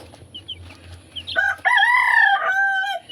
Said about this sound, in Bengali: নিচের মোরগটা ডাকছে।